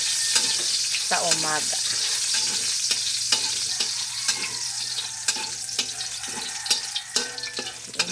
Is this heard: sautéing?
yes